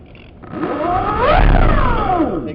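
A small engine on a crashed model airplane is throttled up, its whine rising in pitch to a peak and then falling back, loud and close across a couple of seconds.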